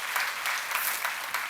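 A church congregation at a seminar claps together in a brisk, continuous burst of applause with no voices over it.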